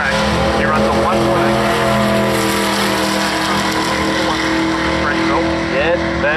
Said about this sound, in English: Look at this big heavy car moving down the track.